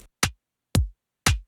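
Soloed synthwave drum samples, a kick drum among them, play three evenly spaced hits with a sharp attack and a short decay, separated by silence.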